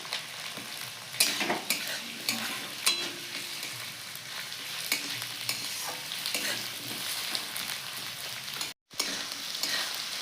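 Raw potato pieces frying in a pan with onion, ginger and garlic, giving a steady close sizzle broken by sharp clatters of stirring, with a brief dropout near the end.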